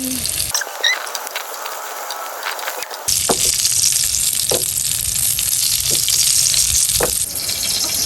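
Dynamite chili rolls and lumpiang Shanghai deep-fry in hot oil with a dense, crackling sizzle that swells louder after a few seconds and keeps up a steady, close patter with occasional pops.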